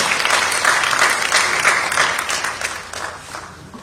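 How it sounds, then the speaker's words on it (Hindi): An awards-show audience at a stage ceremony breaks into dense, steady applause that swells and then fades slightly toward the end, with no speech over it. "जोरदार तालियों से स्वागत करें"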